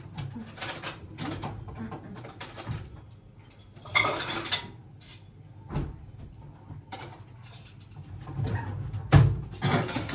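Plates and cutlery clink and clatter intermittently as a breakfast table is set at home, with sharp knocks, sliding and scraping sounds at close range amid quiet household background.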